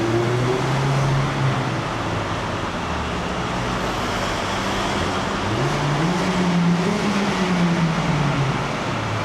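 Mazda MX-5 roadster at full throttle in the city, engine note climbing and rolling through gear changes over steady road noise, heard from inside the open car.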